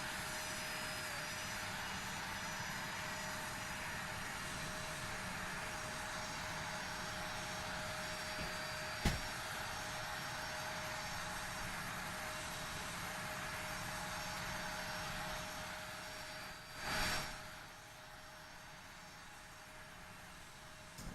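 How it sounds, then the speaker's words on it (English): Steady jet engine roar of a KLM Boeing 777-200 in a flight simulator game, a continuous broadband drone with a brief louder swell near the end. "Looks like a KLM airplane."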